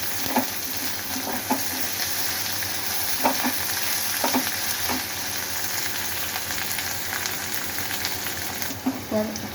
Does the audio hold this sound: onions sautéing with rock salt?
yes